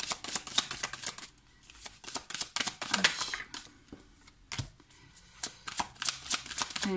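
Riffle shuffling of a new deck of glossy, slippery cards, repeated crisp bursts of fluttering clicks in quick succession with short pauses, close and clear.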